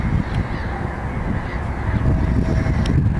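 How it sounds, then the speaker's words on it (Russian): Gulls, ducks and other water birds call in a dense, loud, continuous chorus over a city river beach in early spring, with the river still half covered in ice. "Чайки прилетели."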